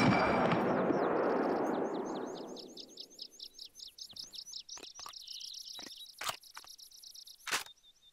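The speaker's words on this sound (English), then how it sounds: "here's the infamous ping sound and reload animation" A hunting rifle, the M1 Iwaniec in theHunter: Call of the Wild, fires with a long rolling boom, then a bright metallic ping and several sharp reload clicks and clacks ring out against chirping outdoor ambience.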